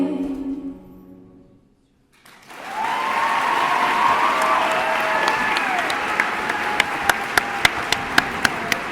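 Audience applause after a dance team performance at a charity strut event, a dense sustained roar of clapping that swells in after a brief quiet start and carries on loudly, with a few sharper claps standing out near the end.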